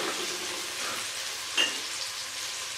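Green chillies, tomatoes and green onion fry in a pan for chicken pasta, a soft steady sizzle with a single brief clatter of stirring partway through.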